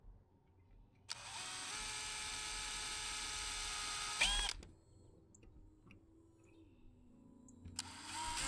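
Cordless power drill driving into composite decking while repairing a Weber grill, a loud close whine running steadily for about three seconds, then stopping, with a second short burst starting at the end over faint handling noise.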